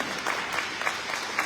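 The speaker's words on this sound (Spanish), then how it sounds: "démosle un aplauso a la palabra de Dios" A church congregation applauding after a Mass reading, a steady, moderately loud patter of many hands clapping together in a reverberant space.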